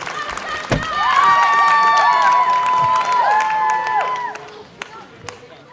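Crowd cheering and clapping for a gold medalist, Lauren Williams, a swelling burst of applause and whoops that holds steady then fades, with an announcer's voice audible over it.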